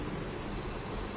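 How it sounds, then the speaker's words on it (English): A steady high-pitched electronic buzzer tone starts partway through and holds continuously, loud and close, over a low background hum; a brake failure alarm warning of low brake pressure. "you can see that audible alert through the buzzer and red LED indication"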